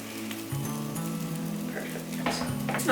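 Steady sizzling of chickpea falafel patties frying in a hot pan, a continuous crackle with faint spatula scraping and a brief voice near the end.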